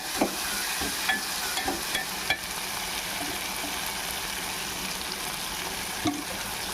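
Tomato masala for a mushroom curry fries in hot oil with a steady, close crackling sizzle, punctuated by a few sharp taps and stirring knocks of a spoon against the pan.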